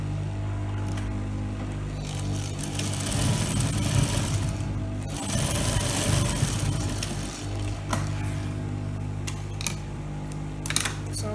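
Sewing machine stitching a sleeve onto a blouse, running in a steady mechanical whir with bursts of faster stitching and brief pauses, close and fairly loud, no talking.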